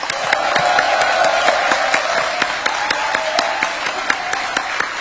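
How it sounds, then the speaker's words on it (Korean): A large audience at a welcoming event for the president in the Philippines gives steady, loud applause, with rhythmic unison clapping that holds throughout without talking. "우리 다시 한번 대통령 네 분을 위해 뜨거운 환영의 박수 부탁드립니다"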